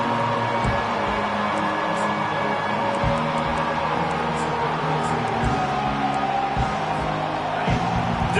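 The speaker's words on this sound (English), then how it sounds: "Decibels rising as the crowd gets behind this defense on third down" A football stadium crowd roars steadily on third down, a dense, loud wall of cheering and whoops sustained throughout with no pause, while a broadcast commentator talks over it.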